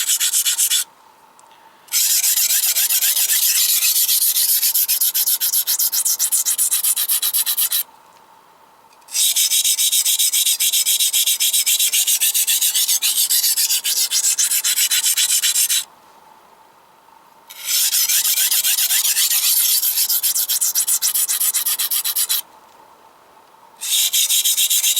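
A worn Henckels chef's knife drawn across a fine whetstone, loud close scraping strokes in four long sustained runs separated by brief pauses, with no talk.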